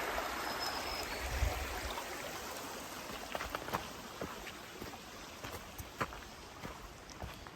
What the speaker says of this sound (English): Got a big old river crossing.